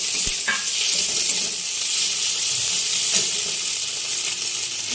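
A fish head hits a pan of frying onion and garlic for a Bengali pumpkin and Malabar spinach chorchori. A loud, dense, even hiss of sizzling runs through, with a sharp clink near the start.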